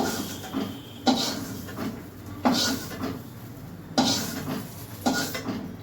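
Sliced okra is stirred in a karahi with a metal spatula, which scrapes and clanks against the pan in four evenly spaced strokes, close and fairly loud, with no talking.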